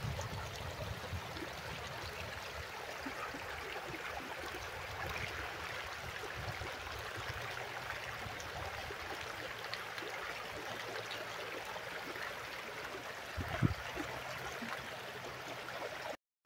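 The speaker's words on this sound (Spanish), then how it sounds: "Qué chulada el relajamiento de esta agua. El sonido del agua." Water of the Bacubirito river flowing steadily in a continuous, even rush with a soft trickling texture and no pauses, close by, with one brief low thump near the end.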